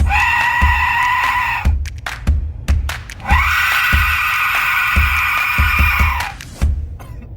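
An Aztec death whistle is blown loudly in two long, piercing, scream-like blasts with gasping, rattling breaths and short noisy bursts between them, harsh and close.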